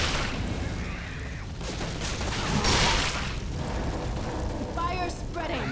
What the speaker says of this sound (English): That's explosion.